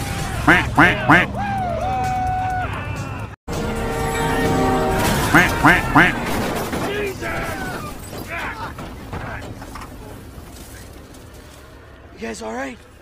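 A voice mimics a duck's quack in repeated rhythmic bursts in a GTA 5 game scene, mixed with other game sounds and shouting.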